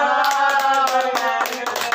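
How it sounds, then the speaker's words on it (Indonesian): A group claps hands for a participant during a training simulation session, with quick claps running over a sustained tonal sound throughout. "Beri tepuk tangan"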